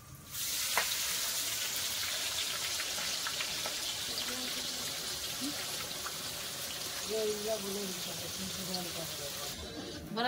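Onions frying in hot oil in a pan already seasoned with cumin, bay leaf and whole chillies, giving a steady, close hiss and crackle that carries through the whole stretch, with faint stirring.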